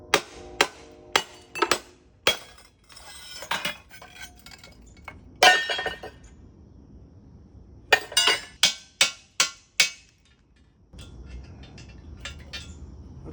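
Metal toilet tank-to-bowl nuts and washers clink and clatter as they are handled and dropped, making a string of sharp, close metallic taps with short gaps and a quieter stretch near the end.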